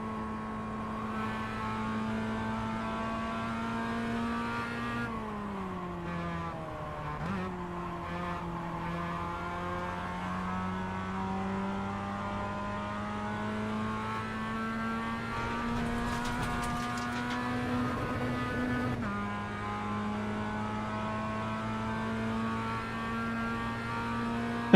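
A Mazda MX-5 engine drones in the iRacing racing game, a steady, buzzy tone that rises and falls through gear changes and throttle lifts over half a minute, with brief squeals of tyres mixed in and no talk.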